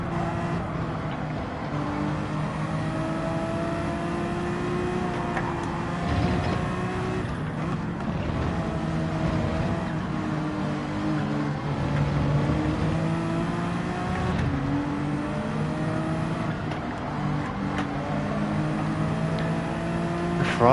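Ferrari race car engine in the Gran Turismo 7 racing game, droning steadily at high revs throughout with rising and falling pitch as it accelerates and shifts, loud and continuous with no talk.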